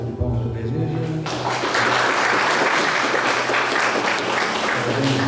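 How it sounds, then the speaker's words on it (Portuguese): Audience applause at a Baptist theological seminary certificate ceremony, clapping swelling in after a moment of voice and music, then continuing dense and steady while a sustained musical tone sounds faintly underneath. "Salve de palmas para a igreja."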